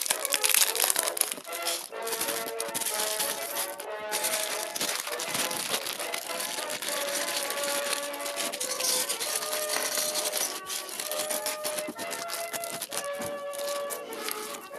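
Crinkly plastic bags from a COBI Small Army NATO AAT desert vehicle building set being handled and torn open, with dense, continuous rustling and crackling close up and no talk.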